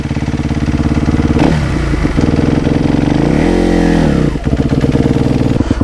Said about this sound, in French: c'est important que la machine tourne comme ça, à froid. Hop là, première.